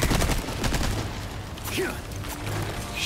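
Gunfire in Resident Evil 4, with a burst of dense shots at the start followed by scattered impacts, and game voices and effects mixed in.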